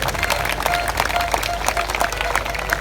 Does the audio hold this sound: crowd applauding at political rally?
yes